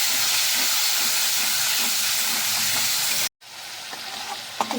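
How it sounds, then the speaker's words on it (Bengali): Spices sautéing with half a spoon of turmeric and a splash of water in a pan for a spicy fish curry, a loud steady hissing sizzle that briefly cuts out, then returns softer with light stirring knocks. "দিয়ে দেবো হাফ চামচ হলুদ গুঁড়ো আর একটু জল এবার আমি কষিয়ে নেব"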